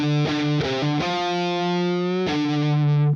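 A distorted electric guitar plays a short riff: quick chugging notes, a held bending tone, then another stab that rings out loud and gritty.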